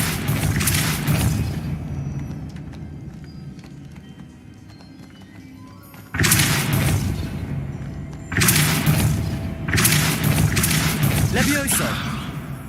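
Depulso spell impacts land in Hogwarts Legacy, several loud, heavy thumping bursts separated by quieter stretches, with game noise between hits.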